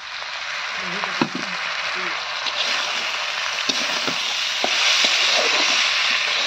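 Chopped tomatoes hit a hot pan and fry with a steady, close, bright sizzle that swells slightly toward the end, with a faint voice murmuring briefly underneath.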